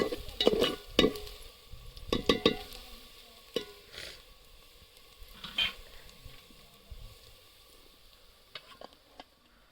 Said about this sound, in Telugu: ఇక అల్లం వెల్లుల్లి పేస్ట్ వేగింది